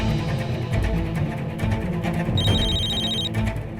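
A telephone rings once in a short electronic trill, partway through, over a busy background of music and noise.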